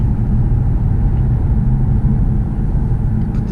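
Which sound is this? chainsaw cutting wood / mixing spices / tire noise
tire noise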